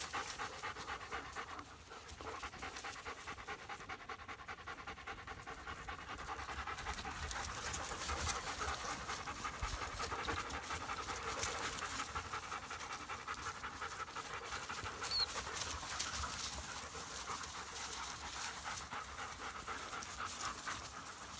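Several German Shepherd dogs pant steadily in a forest, a continuous quick rhythmic huffing at moderate distance that carries on for the whole stretch with no talking.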